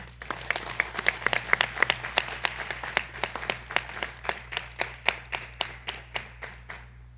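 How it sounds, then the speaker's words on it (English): A graduation audience at a Cleveland EMS ceremony gives a round of applause: steady, evenly spaced claps that read as a group clapping in near unison, fairly close and holding a regular beat for several seconds before stopping at the end. "We could give them all a round of applause."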